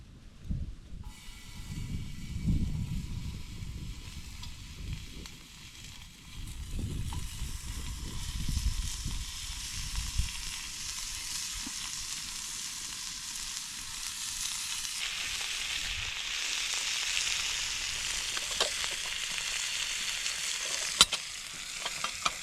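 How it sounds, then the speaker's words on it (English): Sliced bacon frying on a trail stove outdoors, a continuous hissing sizzle with low rumbling underneath that shifts in tone partway through, steady and close. "So we're gonna have bacon this morning that I've already got sliced."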